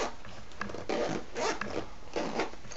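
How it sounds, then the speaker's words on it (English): A zipper on the lining pocket of a handmade bag is pulled in three quick, close rasping strokes, each a short bright zip with small pauses between. "nice zipper pocket."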